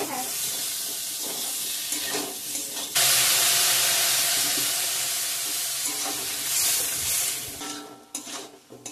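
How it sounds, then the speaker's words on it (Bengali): Spice masala of ground coriander and cumin frying in a pan with water splashed in, a loud steady sizzle and hiss that surges sharply partway through, with stirring scrapes and no voices. "জল দিয়ে দিয়ে কষিয়ে নিচ্ছি"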